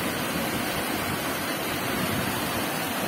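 A river, the Rio da Caixa in southwest Bahia, running full of clean water that breaks over a sandy bed, giving a steady, loud, close rush of broadband water noise without a break and no voices.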